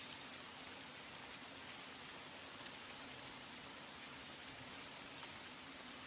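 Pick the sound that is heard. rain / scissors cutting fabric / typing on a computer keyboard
rain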